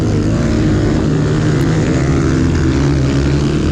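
Small Kawasaki 110 pit bike engine lapping a grassy pit bike race course at Wicomico Park, a loud, steady buzzing drone held close throughout with slight pitch shifts as the rider holds the throttle.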